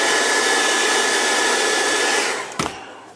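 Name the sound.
hair dryer drying paint on a model base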